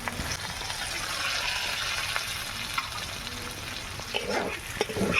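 Fried snail meat tipped into a pan of potatoes cooked down with spices, a steady close sizzle and frying hiss with a few scraping stirs, continuing without a break.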